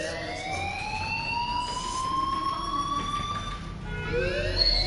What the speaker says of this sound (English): do you hear that fire alarm?